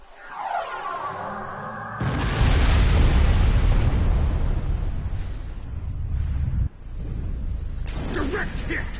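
Starship weapons fire slams into a target in Star Trek Online: a loud, sustained roaring blast that swells suddenly, holds heavy and rumbling, then cuts to a second burst with crackling bright debris at the end.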